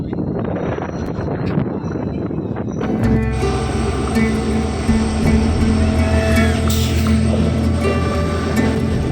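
A train rolling along a curve in heavy monsoon rain near Dudhsagar waterfalls in Goa, starting with rain and wind noise before a loud, continuous rumble and rail hum rise and hold steady, up close.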